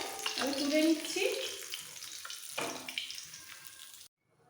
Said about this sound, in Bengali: এবার এইভাবে একটু লাল করে ভেজে নিতে হবে